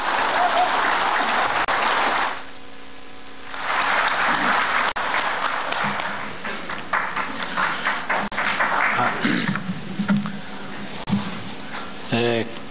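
An audience at a Korean presidential candidate's rally breaks into loud, sustained applause, which pauses briefly, swells again, and then thins into scattered claps. Someone speaks over the fading clapping toward the end.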